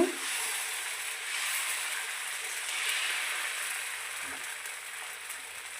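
Dosa batter sizzles on a hot griddle set over a low flame, a soft continuous frying hiss that rises and falls gently, with a faint clink near the start and another partway through.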